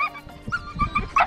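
A puppy gives a quick run of high yips and whimpers, several short squeaky cries close by, in a beach-day setting.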